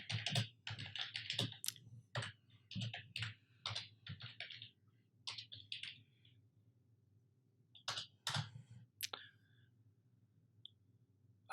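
Light typing on a computer keyboard, quick irregular clusters of key clicks with short pauses, close and fairly quiet, then a long stretch of near silence with a few final taps.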